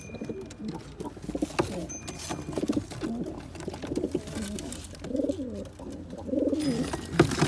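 Several pigeons coo repeatedly nearby, their low throaty calls overlapping in a steady murmur, with faint rustling in the background.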